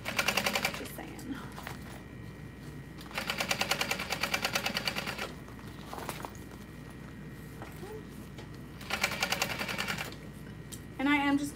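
A sewing machine bastes the seams of a fabric pouch, running in three rapid rattling bursts of stitching separated by pauses, close and moderately loud beneath a quiet background hum.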